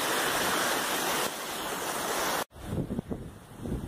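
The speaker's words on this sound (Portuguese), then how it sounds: "Vamos descer aqui essa cascata aqui, tá?" Mountain waterfall on a steep descending trail near Pico do Selado, Monte Verde, a steady broadband rush of falling water and wind, briefly cut off midway, then returning with rougher gusting noise and handling bumps close to the microphone.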